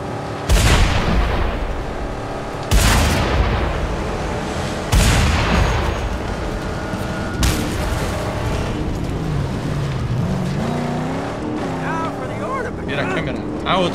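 Vehicles blowing up in the game Mad Max while wrecking a convoy, several heavy booms arriving a few seconds apart over a continuous loud engine roar, with a voice speaking underneath.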